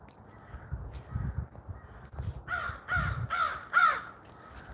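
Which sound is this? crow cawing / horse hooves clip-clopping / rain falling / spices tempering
crow cawing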